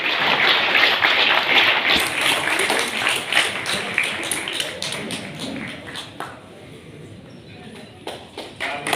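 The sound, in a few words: audience applause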